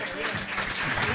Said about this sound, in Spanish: voy a pedir que se renueven los aplausos para el disco